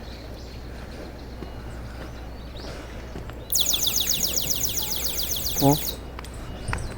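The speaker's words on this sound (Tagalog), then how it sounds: "mga tumutunog dito, mga ibon" Birds sing among white sakura trees, a bright high twittering that starts abruptly partway through and continues steadily nearby, with a brief lower chirping call near the end over outdoor ambience and someone speaking briefly.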